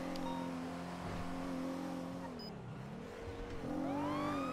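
A police car siren in a video game, a wailing tone that rises and falls over a steady engine drone, with a faint sweep at the end as the tone climbs again.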